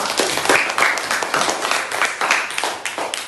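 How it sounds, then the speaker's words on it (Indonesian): A school class claps in a classroom, loud uneven applause with distinct individual claps and pulses of rhythm rising and falling across the few seconds. "Saya tepuk tangan untuk anak-anakku."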